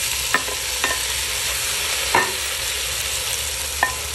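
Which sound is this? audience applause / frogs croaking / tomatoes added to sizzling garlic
tomatoes added to sizzling garlic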